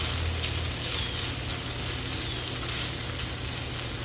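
Potatoes sizzling steadily on a Blackstone griddle, a soft, even frying hiss with faint crackle, close and unbroken, with no talking.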